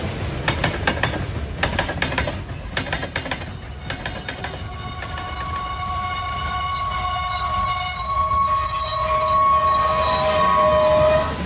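A train gets moving with quick clattering wheel knocks at first. It settles into a rising, steady rumble, and high metallic wheel squeals ring out over it, loud and close, with no voices.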